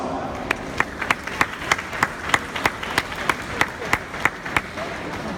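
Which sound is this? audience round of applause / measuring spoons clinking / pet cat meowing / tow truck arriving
audience round of applause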